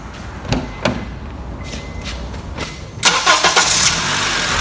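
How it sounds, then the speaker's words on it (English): A car being jump-started: a couple of sharp clunks, then the engine cranks and catches around the three-second mark, settling into a steady close idle. "then you can have your lovely assistant start the car"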